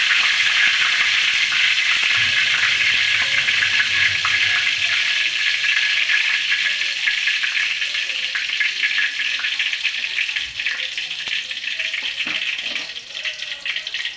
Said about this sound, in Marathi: आता हाताने स्वच्छ धुवून घ्यायचे